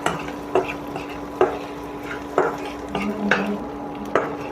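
Ingredients for coriander leaf thokku being sautéed in a pan, a low sizzle under regular spatula strokes that scrape and tap the pan about once a second, with no talking.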